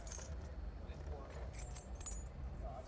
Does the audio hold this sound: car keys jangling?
yes